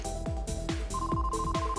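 A mobile phone ringing inside a car, a rapid warbling electronic ring repeating about every half second, loud and close with no talk over it.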